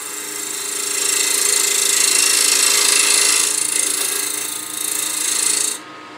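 A wood lathe gouge cuts a cove into a spinning birdhouse ornament, giving a loud, steady scraping hiss that swells and holds for several seconds before the tool lifts off, leaving a quieter hum of the lathe.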